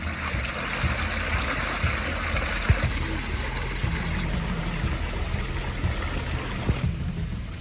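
A small river runs beside a mountain trail, a steady close babbling and trickling flow with a faint low hum beneath, continuous throughout with no talk.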